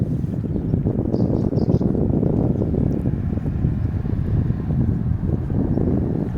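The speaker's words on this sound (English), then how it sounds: "Soft wind, it's nice and warm." Steady wind buffeting the microphone outdoors near Saint James Church in Medjugorje, a continuous low rumbling roar with no voices, loud and unbroken throughout.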